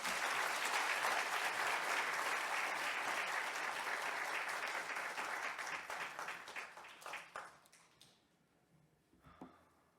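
A church congregation applauds to welcome a visiting pastor to the pulpit, steady full clapping that thins out and trails off toward the end, followed by faint scattered sounds.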